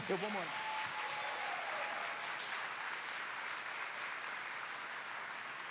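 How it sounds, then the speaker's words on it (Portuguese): Sustained applause from a church congregation fills the clip, steady and even throughout, with a brief voice at the very start. "Pode aplaudir de novo?"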